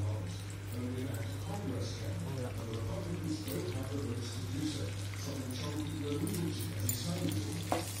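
Curry leaves and ginger frying in a pan give a steady, close hiss and crackle that runs the whole time, with a low hum and a voice talking over it.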